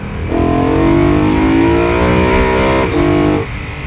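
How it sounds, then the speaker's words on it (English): A BMW E92 M3 engine revs up with a rising, throaty intake roar, holds briefly, dips, then surges again before easing off. "it's still almost entirely dominated by the intake noise"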